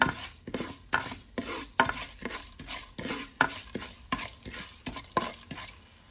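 Chana dal and coriander seeds frying in a pan, rhythmic spatula scrapes and stirs about twice a second over a soft sizzle, close and moderately quiet, no speech.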